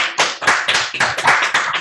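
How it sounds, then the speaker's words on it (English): A round of applause over a video call, several bursts of close, sharp clapping in an uneven rhythm, fairly loud and with no talking. "Let's all unmute ourselves for a moment and give a round of applause."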